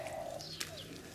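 Wild young sparrows call outdoors early in the season, with faint, brief chirps scattered over a steady background hiss.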